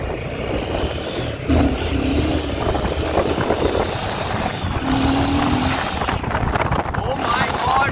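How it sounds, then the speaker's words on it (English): Royal Enfield Himalayan 450 motorcycle engine under way, a steady loud rumble mixed with heavy wind buffeting on the microphone, with a rider talking over it. "Oh my god, this bike is running."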